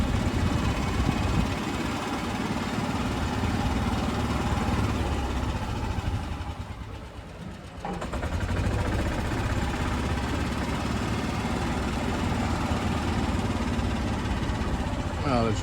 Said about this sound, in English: Let's chit-chat with that guy driving a street sweeper machine